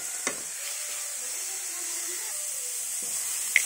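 Carrots fry in a salted pan, giving a soft, steady sizzling hiss with a couple of brief clicks from the pan.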